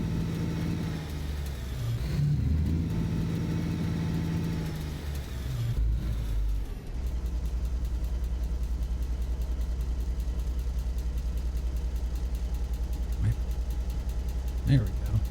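Truck engine on an Alaskan road starting off in winter, a low steady idle rumble that shifts after a brief clatter into a sustained, even drone, close and moderately loud.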